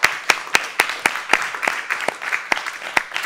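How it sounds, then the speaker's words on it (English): Live audience applauding after a CPD session presentation, with sharp individual claps standing out rhythmically over a dense, steady patter of hands, close and fairly loud throughout. "And a round of applause again for Mark."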